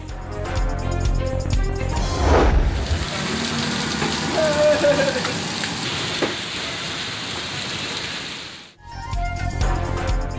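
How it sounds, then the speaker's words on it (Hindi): Rain falling across Karachi, a steady broadband wash of water that stays loud and continuous through the middle of the clip, with other sound before and after it. "मुख्तलिफ इलाकों में कहीं हल्की कहीं तेज बारिश"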